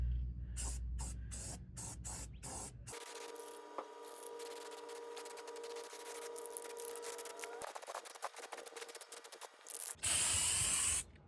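Aerosol spray painting of custom bumper parts for a 1957 Chevy truck: bursts of hissing spray, then a long sustained hiss with a faint mechanical tone underneath, ending in a loud close blast of spray.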